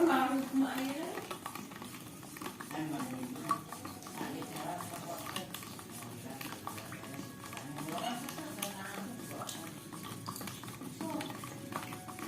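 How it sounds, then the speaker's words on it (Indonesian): Sugar is stirred into room-temperature water in a glass, a soft continuous swirling with occasional light clinks, mostly under a speaking voice. "Lalu kita dengan suhu normal aduk."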